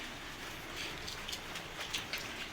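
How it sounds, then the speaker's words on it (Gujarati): Light rain falls outdoors as a steady, soft hiss with faint scattered patters of drops, heard alone without talk. "વરસાદ થોડો ચાલુ હોય."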